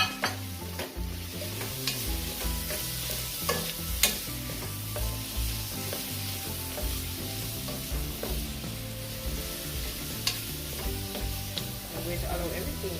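Mixed vegetables going into a pot of Jamaican seasoned rice with coconut milk, giving steady stirring scrapes and a soft sizzle over background music, with no talking.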